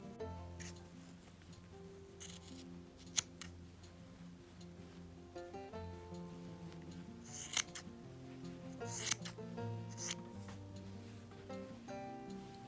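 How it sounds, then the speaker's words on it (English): Scissors snip through the bottom cuff of stretchy Walmart leggings, quiet crisp cuts and rustling fabric with a few sharper snips scattered over a faint background hum. "And then I'm going to cut off the bottom cuff."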